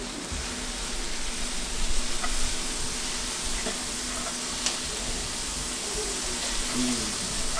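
Garlic sizzles gently in a pan as it is stirred around, a steady hiss with occasional soft scrapes and clinks, and some quiet talk in the background.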